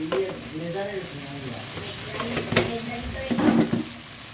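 Food stirred in a hot pan after turmeric and salt are added, close sizzling with several clattering scrapes of a spoon against the pan, and faint talk early on.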